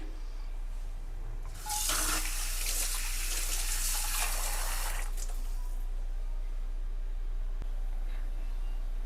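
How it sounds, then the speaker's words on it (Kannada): Water pours in a loud, gushing stream for about three seconds into a pot of sambar made with chickpeas and peas, then stops, leaving a quiet kitchen hum. "ನೀರನ್ನ ಆ್ಯಡ್ ಮಾಡ್ಕೊಳ್ಳೋಣ ನಿಮಗೆ ಸಾಂಬಾರು ಕ್ವಾಂಟಿಟಿ ಎಷ್ಟು ಬೇಕಾಗುತ್ತೆ ನೋಡಿಕೊಂಡು ನೀವು ನೀರನ್ನ ಆ್ಯಡ್ ಮಾಡ್ಕೊಳ್ಳಿ"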